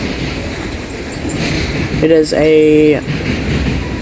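Freight train cars, including cooler cars, rolling past at Elkhart with a continuous rumble and clatter, a brief wheel squeal in the middle, and a voice speaking briefly over it.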